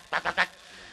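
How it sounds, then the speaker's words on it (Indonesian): A duck gives three quick, nasal quacks in a row, close and fairly loud, followed by quiet. "Emang bebek bunyi dewek."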